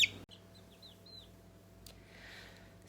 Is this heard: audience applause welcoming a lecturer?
no